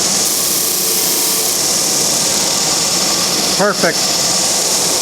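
A sander runs steadily on a wooden ukulele body during building, a loud continuous whir filling the whole stretch, with a brief spoken word near the end.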